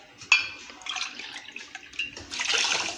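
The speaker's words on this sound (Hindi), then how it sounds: "और इसमें मैं 2 कप पानी डाल रही हूँ" Water is poured from a cup into a pan to make sugar syrup for suji halwa, a splashing, trickling stream that swells louder toward the end, close by with no talk.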